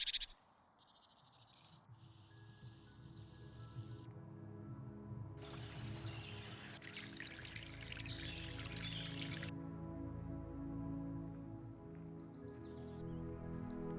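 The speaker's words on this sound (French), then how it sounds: "Les premiers passereaux chanteurs s'égosillent à travers les sous-bois pour marquer leur territoire et rechercher des partenaires." A songbird in spring forest undergrowth gives one short, bright, descending trill early on, then quiet woodland ambience with soft rustling and a brief rush of noise.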